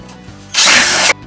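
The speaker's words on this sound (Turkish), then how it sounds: "Bunları vidalıyorum." Power drill drives a screw into a wall panel frame during wall cladding work, one loud continuous whir of about half a second that starts and stops abruptly, with quiet room noise around it.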